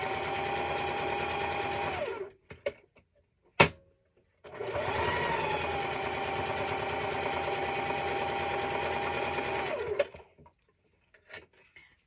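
A sewing machine runs along the top of a quilt block in two steady stretches, close and even, separated by a brief stop with a sharp click and some handling noise.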